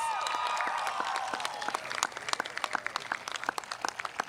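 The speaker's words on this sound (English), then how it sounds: "Mr. David Akatu, your class advisor, a big round of applause" Graduation audience at the 2021 Rockville High School ceremony bursts into dense, loud applause that gradually thins into scattered individual claps, with a voice briefly audible at the start.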